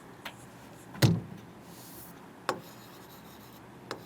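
Pen strokes on paper in a class: a few short, scattered scratches and taps, one slightly stronger than the rest, faint over a quiet room with no talking.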